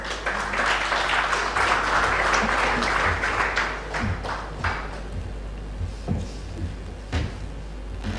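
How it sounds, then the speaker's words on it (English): Dense audience applause at a smart city conference in Bhopal, loud and sustained for several seconds, then thinning into scattered individual claps that trail off. "Please give him a big round of applause."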